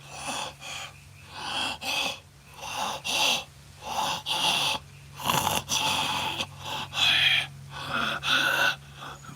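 A person imitates wet, slack-jawed open-mouth breathing, producing a series of rhythmic, raspy, snore-like inhales and exhales at close range, repeated about a dozen times.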